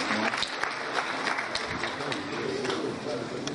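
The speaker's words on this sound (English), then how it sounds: "The host deserves another round of applause." Applause from the audience at a leadership award ceremony, dense and steady for a few seconds, with voices faintly mixed into the clapping.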